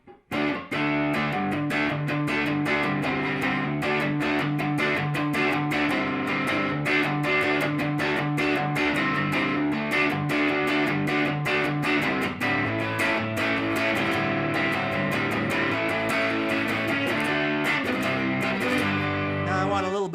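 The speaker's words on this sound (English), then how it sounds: "I've got it on the vintage mode, and this would be, a good crunchy rhythm mode." An electric guitar played through a Lovepedal Vintage Modern overdrive pedal in vintage mode, crunchy chugging rhythm chords strummed in a steady, driving pattern, loud and continuous.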